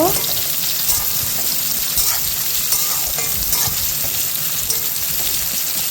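Steady sizzling of onions frying in a pan, with occasional scraping and clinks as they are stirred, close and continuous throughout.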